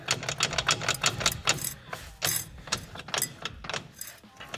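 A worn, loose driveshaft universal joint with heavy play, worked back and forth to make quick, irregular metallic clacks and knocks close by. The rattling sometimes comes in bursts and sometimes pauses briefly.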